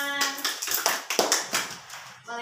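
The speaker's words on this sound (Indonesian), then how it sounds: "Tepuk tangan." A group of scouts at a Pramuka training session claps hands together in a quick burst of sharp, close, irregular claps that taper off after about two seconds.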